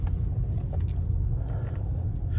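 Steady low engine rumble of a 2015 Holden Caprice-V long-wheelbase sedan with a 6-litre V8 cruising along, heard from inside, with faint road noise and a few light clicks over the drone.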